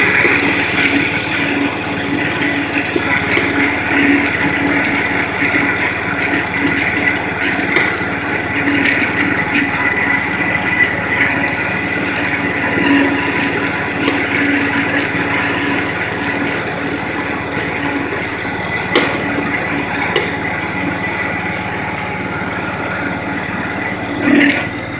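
A Toro Timecutter 1642Z zero-turn lawn mower, unused for a year or two, runs at a steady loud, close drone for the whole stretch, with faint higher whining tones over the engine.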